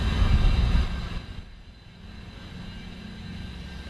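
An ACL CSC200 gas burner roars loudly at first, dips briefly, then settles into a steadier, quieter whooshing rumble of running flame.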